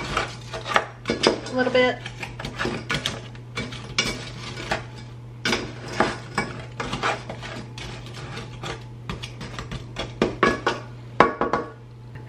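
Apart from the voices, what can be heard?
stirring sugar into a mixture with a spoon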